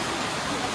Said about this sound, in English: It's literally pouring rain.